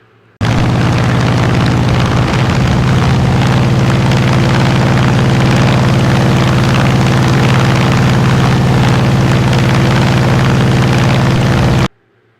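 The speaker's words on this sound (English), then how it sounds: "I hit full throttle and let it launch away" An aircraft's engine roars at full throttle during a carrier catapult launch in Microsoft Flight Simulator, a loud, sustained drone starting abruptly and holding steady for about eleven seconds before cutting off.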